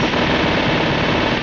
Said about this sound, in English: have you ever seen someone shoot bullets with